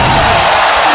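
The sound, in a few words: arena crowd chanting fighter's name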